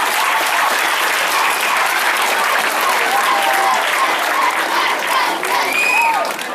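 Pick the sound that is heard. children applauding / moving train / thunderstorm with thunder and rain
children applauding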